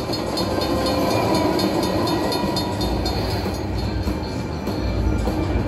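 Train rumble and rail clatter from the Cash Express Luxury Line slot machine game run as a steady, dense, loud wash throughout, with no speech.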